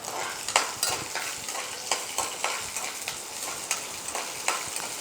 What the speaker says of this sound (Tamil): அடுத்தது வரமிளகா 3 மிளகா போடுறோம்.